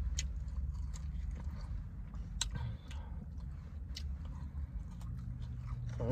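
Crunchy fried Wingstop chicken wings chewed close to the mic, with repeated crisp bites and crackles over a low steady hum, no talking.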